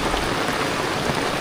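Heavy typhoon rain pours down outdoors during a flood, a dense, loud, unbroken hiss of water drumming on surfaces, close and constant without any pause.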